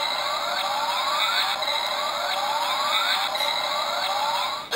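A Dynamite Lion Progrise Key toy, a magazine bonus item, plays an electronic wailing siren effect in repeated rising sweeps, loud and close, with no talking.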